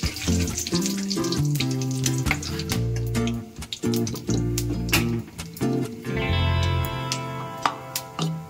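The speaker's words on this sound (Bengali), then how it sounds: "আমি কড়াইতে তেল গরম করে নিয়েছি, এতে দিয়ে দিচ্ছি কিছু গোটা গরম মশলা, আর দিয়ে দিচ্ছি একটু জিরে ফোড়ন, দিয়ে হালকা ভাজা ভাজা করে নিচ্ছি" Whole garam masala and cumin seeds crackle and sizzle in hot oil in a kadai, a soft, steady frying hiss beneath prominent background music.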